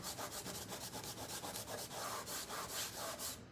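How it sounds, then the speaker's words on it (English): Scraper dragged across chalk paste on a DIY home decor piece, a dense close rasping in quick repeated strokes, fairly faint and steady with no voices. "we're just gonna scrape it off and start a new project"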